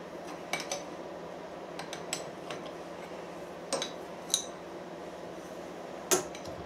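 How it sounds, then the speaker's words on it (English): Clamp bolts on a machine quill setup are loosened with a metal tool, producing scattered light metallic clinks and ticks over a quiet hum, isolated and without speech. "all I'll do is simply loosen off the clamp bolts"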